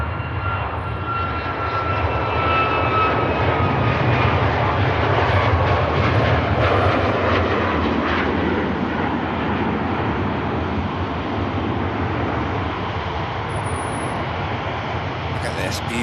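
An aircraft departs Manchester Airport. Its engines make a loud, steady broadband roar that holds for the full length and eases slightly near the end.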